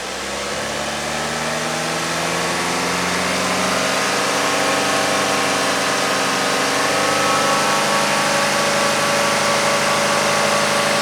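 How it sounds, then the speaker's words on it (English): A Chevrolet Equinox with an intermittent power loss fault, its engine held at raised revs around 3,000 RPM, giving a steady, close droning hum that climbs slightly and holds. "So, Gavin, rev up the engine."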